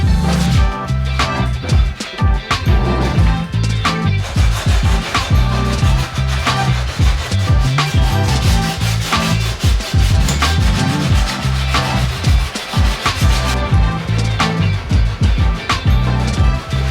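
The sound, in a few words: sanding Bondo body filler on a car panel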